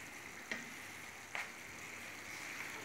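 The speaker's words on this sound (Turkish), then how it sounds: "Böyle kavuruyorum böyle." Noodle dish with tomato paste sautéing in hot oil, a steady close sizzle with two soft clinks of a utensil stirring the pan.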